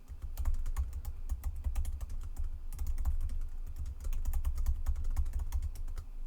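Rapid typing on a computer keyboard while entering a file name, a steady run of close, crisp key clicks with no voices.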